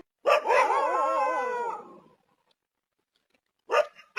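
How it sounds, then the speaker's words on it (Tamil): A dog barks at approaching intruders near a house, giving a wavering, howl-like bark up close, then silence, then a short second bark. "இதை பார்த்து ஃபர்ஸ்ட் நாய் குலைக்குதுங்க"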